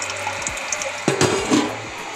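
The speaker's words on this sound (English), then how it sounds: "And I do see water flowing" Water runs through a home brewing setup switched to recirculating mode, a steady splashing gurgle with a few sharper bubbly surges, close and moderately loud with no talking.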